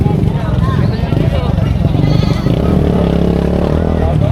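Anglo-Nubian crossbreed goats bleating at a busy livestock market, wavering bleats close by under loud ongoing talk, with a motor rumbling in the background.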